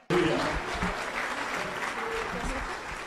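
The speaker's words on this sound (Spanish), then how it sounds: "Ese aplauso es de gratitud a Dios" A church congregation breaks into applause after a sermon passage, clapping starting abruptly and continuing steadily, with a voice briefly audible at the start.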